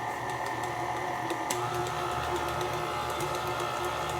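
An orange KitchenAid stand mixer runs at speed 2, beating pumpkin bread batter with a steady, even motor whir and faint rhythmic ticking throughout, with no talk.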